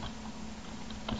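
Computer keyboard keys tapped while entering Visual BASIC if-then code, a brief steady run of light clicks close to the mic over a constant low hum.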